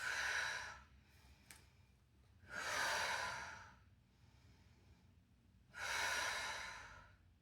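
Heavy, slow breathing during a plank exercise, three long loud breaths spaced a few seconds apart with quieter breathing between them, close and without talk.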